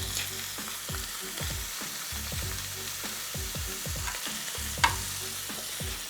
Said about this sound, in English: I'm just giving them a nice good sear